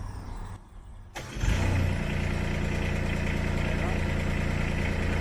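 A Kubota diesel engine on a Wolfe Ridge 35 HDI log splitter starts up after a quiet moment and settles into a steady, loud, close idle that runs evenly to the end.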